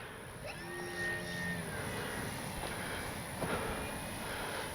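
A 3X Flex RV8 60E electric RC model airplane flies overhead under power, its motor whine rising and shifting in pitch as it passes. It sounds faint and distant over a steady background hum.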